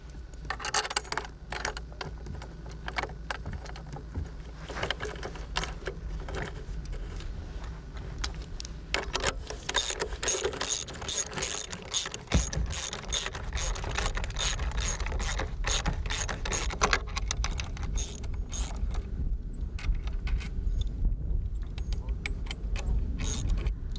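A ratchet wrench clicks in quick bursts as bolts are tightened while blades are mounted on a wind turbine head, with metallic jangling and mechanical rattles throughout, fairly close.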